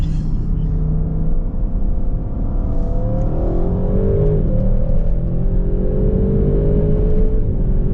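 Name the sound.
Audi RS6 or Porsche Taycan 4S launch acceleration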